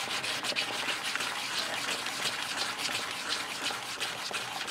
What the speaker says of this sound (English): then you know you need to sand some more